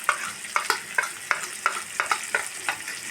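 Sliced okra fries in a pan with onions, a steady close sizzle broken by about a dozen sharp scraping clicks as a spoon stirs it, with no one speaking.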